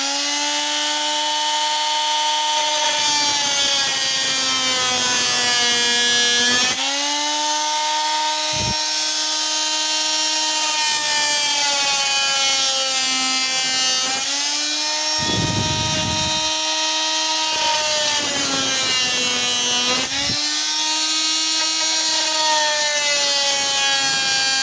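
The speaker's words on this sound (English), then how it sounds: "Now I'll try a plunge cut onto this piece of wood." A Ryobi HMP-180 oscillating multi-tool plunge cuts into a piece of wood. Its loud buzzing motor drones steadily, and the pitch dips and rises as the blade bites in and eases off over about 25 seconds.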